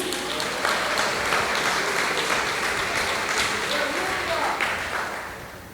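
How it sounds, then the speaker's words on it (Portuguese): A church congregation applauding during a sermon: steady, dense clapping fills the room for several seconds, then slowly tapers off at the end. "Você pode aplaudir a Jesus?"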